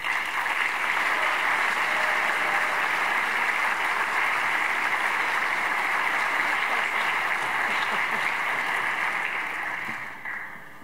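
Audience applause fills the room at an awards banquet, a steady dense wash of many hands clapping at once that holds for about ten seconds before tapering off near the end.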